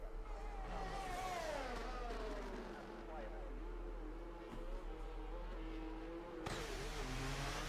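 Race car engine in a sim racing league round at Spa, Belgium, climbing through Eau Rouge on medium tyres, a steady rising engine whine held throughout under continuous commentary, with a sharp shift change near the end.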